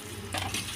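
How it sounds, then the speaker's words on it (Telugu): Raw chicken pieces are stirred by hand with ginger garlic paste, rice flour and spices for fried rice, giving soft, wet squelching and mixing sounds, close up and steady, with no speech. "మసాలాలు మొత్తం చికెన్ పట్టేలా కలుపుకుందాం."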